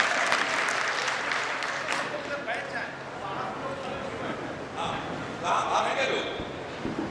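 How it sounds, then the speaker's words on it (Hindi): Loud, sustained applause from a large crowd, steady clapping throughout with cheering voices mixed in. "एक बार दोनों हाथ उठा के जोरदार तालियों से बुलाएं।"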